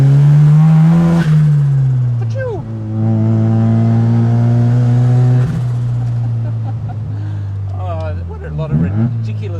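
A 1972 Mazda RX3 Savanna with a 13B turbo rotary engine drones loudly at a steady pitch, dipping and rising as it drives, with a person talking over the noise.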